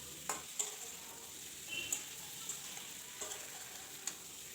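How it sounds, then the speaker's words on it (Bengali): A pointed gourd and prawn curry with spices gets stirred in a pan, giving a quiet, low sizzle broken by several light, sharp taps of a spoon against the pan's edge, with no voices. "খুব ভালো করে নাড়াচাড়া করে মিশিয়ে দেব"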